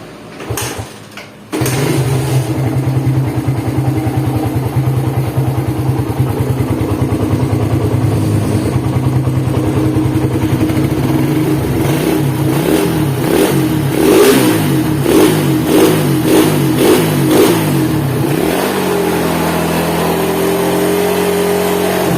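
Suzuki Satria FU motorcycle with a cold engine and a rough knocking fault near the crankshaft bearing and clutch housing, starting after a brief crank, idling loudly, then revved in repeated rising surges before settling back to idle.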